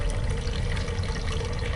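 Continuous splashing and trickling of wort as it runs from the mash back into a homebrew kettle during all-grain brewing, steady and close.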